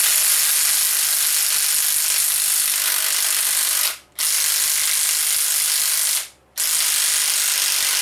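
A ratchet works a tight bolt loose on a 1985 350 engine, its rapid clicking running almost without a break, with two short pauses between strokes.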